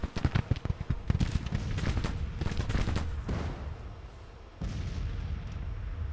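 Cannon fire in the Civil War strategy game Grand Tactician, with a dense cluster of booming reports followed by a sustained rumbling roll of battle noise.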